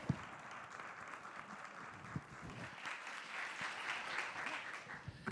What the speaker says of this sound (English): Another round of applause for this wonderful panel.